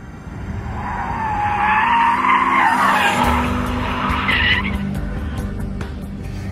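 Tyres squeal and skid on a track as a BMW 1M and a Porsche Cayman R are driven hard, a loud sustained screech wavering in pitch over engine roar for several seconds, with no talking.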